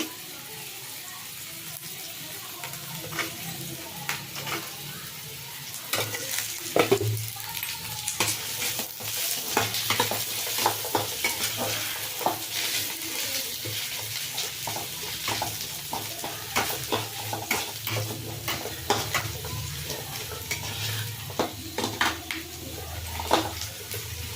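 Grated coconut and byadgi chillies frying in a pan at home, a continuous close sizzle broken by frequent scraping stirs, with a brief voice under it partway through.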